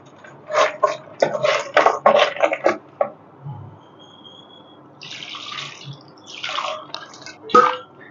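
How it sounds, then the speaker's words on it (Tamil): Fish are rinsed under clean water, with running and splashing water in short, close bursts, a pause with faint trickling, then more splashing. "நான் மீனை எப்பவுமே வந்து நல்ல தண்ணி தான் கழுவுறேன்"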